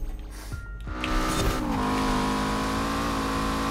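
A Lancia Delta S4 turbo rally car in Forza Horizon 4 revs and accelerates, its engine note climbing into a loud, steady high-pitched drone after a brief rough start, heard alone and close.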